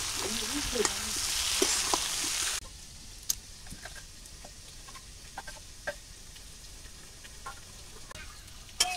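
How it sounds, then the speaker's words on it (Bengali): Pointed gourd frying in oil with turmeric and salt in a pan, a loud sizzle at first that drops to a quieter crackle after a few seconds, punctuated by scattered clicks and spatula scrapes. "পটল এই সবুজ সবুজ থাকতে উঠেই নেই, হালকা ভাজা দিছি আর ভাজবো না"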